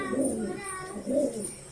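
A teddy pigeon coos close by in two soft, rolling phrases, with faint background noise and a few high chirps.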